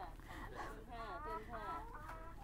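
Chickens clucking close by in a henhouse where hens are laying eggs, a busy run of warbling clucks under a continuous background hum.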